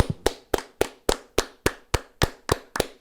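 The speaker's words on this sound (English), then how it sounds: "give a round of applause" Podcast hosts clap together in a quick, even rhythm of about ten sharp, close claps, with no talking over them.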